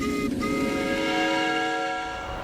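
A miniature steam locomotive rumbles close by at a miniature railway while a sustained whistle sounds over it, holding steady before fading slightly at the end.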